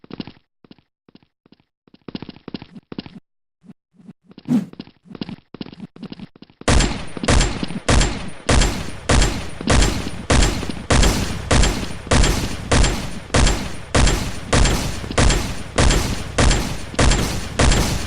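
Game shotgun blasts fire in a rapid, steady rhythm, loud and close, after a quieter stretch of sparse clicks and small reload-like sounds; no talk over the firing.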